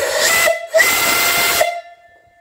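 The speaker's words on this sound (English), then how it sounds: "Beautiful whistle. I'll blow that here." An antique 2.5- to 3-inch steam whistle blows twice, loud and shrill with a rushing hiss: a short blast, a brief gap, then a longer one trailing into silence.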